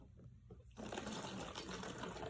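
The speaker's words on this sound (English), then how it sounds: "Carefully put the vinegar" Vinegar poured through a funnel for a balloon-inflating experiment, a sudden steady gushing trickle starting after a brief quiet moment and continuing loudly to the end.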